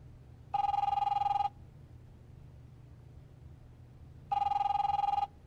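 Telephone ringing in the video game The Wolf Among Us: two separate bursts of a bright electronic bell ring, each about a second long, with a quiet pause between them over a low background hum.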